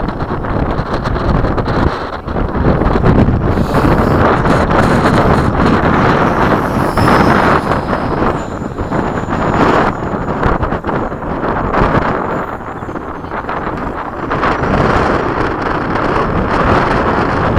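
Strong wind buffets an outdoor microphone at a model jet flying field, a loud continuous roar that swells and eases over the whole stretch, with faint engine whine from a radio-controlled jet in the background.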